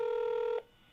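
A single telephone dialing tone, a steady dual-pitch beep, sounds loud and close for about half a second and then cuts off abruptly, leaving only a faint line hiss as a scammer's number is called.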